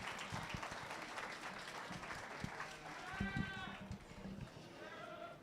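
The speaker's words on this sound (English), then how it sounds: "Go ahead and give them a nice round of applause." Crowd applause at a 4-H market goat show at a county fair, steady clapping throughout with goats bleating over it.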